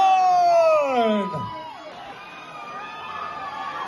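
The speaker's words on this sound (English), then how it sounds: "Cheer them on." Crowd screams and cheers at the finish of a coffin race at the Frozen Dead Guy Days festival, loud and close. A whooping voice swoops down early, then a dense roar of voices carries on.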